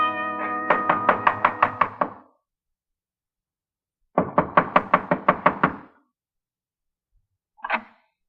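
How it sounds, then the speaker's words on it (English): Knocking on a door in an old-time radio crime drama: two separate bursts of rapid, loud knocks, each about eight raps, followed by a single short knock, with silence between. "Only certain kinds of people knock like that."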